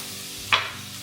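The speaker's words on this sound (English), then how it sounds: "Then I'm just going to add the onion and the celery." Chopped onion and celery with Aleppo chili, powdered garlic and oregano hit hot olive oil in a skillet, giving one sudden loud sizzling burst that quickly fades back to a low background hum.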